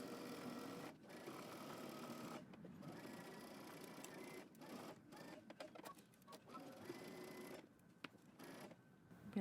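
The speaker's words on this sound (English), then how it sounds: "we're gonna back stitch at the beginning and at the end using 5/8 of an inch seam allowance" A sewing machine runs in bursts while stitching seams on a Simplicity 8639 dress with built-in power mesh, with short back-stitches at the start and end; the steady motor whir stops several times in brief pauses, with no voices.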